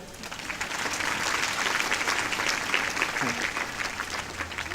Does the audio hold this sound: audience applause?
yes